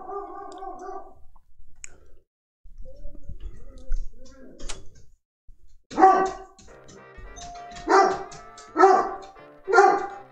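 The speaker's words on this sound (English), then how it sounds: "My dog is barking for whatever reason because my package got here." A dog barks indoors in loud, separate bursts, several spaced barks toward the end after fainter noises and a few higher yelps earlier, with no talk over them.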